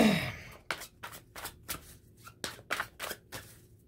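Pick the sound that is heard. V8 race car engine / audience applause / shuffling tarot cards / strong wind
shuffling tarot cards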